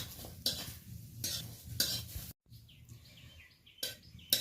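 Garlic dry-roasting in an empty wok with no oil, stirred in short scraping strokes separated by quieter gaps, close but fairly soft, with faint bird calls in the background and no talking.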